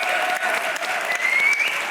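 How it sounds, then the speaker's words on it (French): Sustained applause from an audience at the closing plenary session of a weekend conference in Montbéliard, a steady dense clatter of clapping hands, loud and continuous for the whole stretch with no voices over it. "Et pour finir, un tonnerre d'applaudissements."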